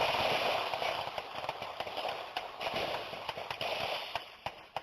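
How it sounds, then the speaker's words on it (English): Gunfire captured in news footage near a Milwaukee park, with a string of sharp, distant cracks at irregular intervals over a noisy, hissing background. "A single gunshot, followed by rapid gunfire."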